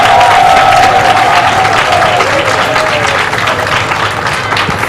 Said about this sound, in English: that rousing applause just gives an indication of the kind of impact that Bishop Davis has had